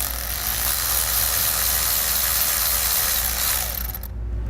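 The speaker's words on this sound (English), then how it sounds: "then we can reattach the nut." A ratchet tightens a nut onto a ground wire bolt while a Subaru Forester is being fitted with a towed-vehicle brake light relay kit. Rapid, steady mechanical clicking runs loud and close for about four seconds, then stops abruptly.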